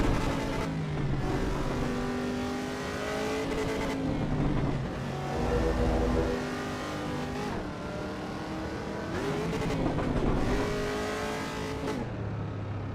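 Racing car engine in Assetto Corsa Evo, a lower-performance race car, revving hard with audible gear shifts and pitch drops between pulls, a continuous loud engine note throughout.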